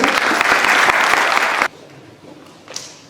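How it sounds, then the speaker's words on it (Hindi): A loud round of crowd applause welcomes guests at a children's assembly session in Gairsain, Uttarakhand, dense and vigorous clapping that cuts off sharply after about a second and a half, leaving faint room noise. "थोड़ा और जोरदार तालियों से स्वागत करेंगे"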